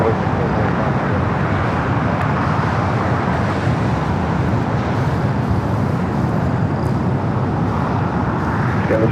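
A United 737-800 jet bound for Las Vegas roars down runway 25 right at LAX on takeoff, a loud, continuous broadband engine rumble holding steady throughout with no break.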